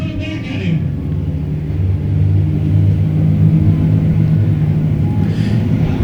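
Race cars battle three to five wide in a rainy night skid plate race, a loud continuous rumble of engines as the pack roars past close by, with brief higher crowd or track noise at the start and end.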